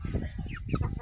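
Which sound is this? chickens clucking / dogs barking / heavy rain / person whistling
chickens clucking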